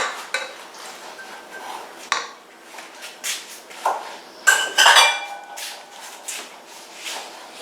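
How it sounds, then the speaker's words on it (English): Stromboli dough is mixed by hand as yeast is worked into flour in a bowl, with close scraping, clinks and shuffling bursts of utensil on bowl, irregular and moderately loud. "Rise up a little bit and mix it with the flour"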